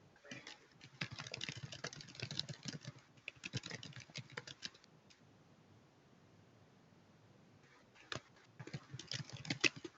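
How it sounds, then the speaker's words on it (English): Bursts of quick keyboard typing, clattering in rapid irregular runs with a few seconds of near silence in the middle before resuming. "I see he's been typing it up"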